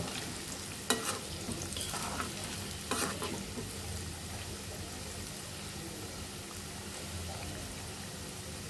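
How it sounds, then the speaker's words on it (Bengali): Popcorn frying in a pan over medium-low heat, a steady soft sizzle with a few sharper scraping stirs near the start and around the three-second mark, fairly quiet and close with no talk over it. "পপকর্নগুলো দিয়ে দিয়েছি এবং চুলার আঁচটা মিডিয়াম টু লোতে রেখে ভেজে নিতে হবে।"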